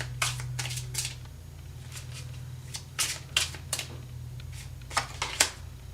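Tarot cards are riffled and shuffled by hand in a series of crisp, close flutters and snaps, coming in irregular bursts over a faint steady hum.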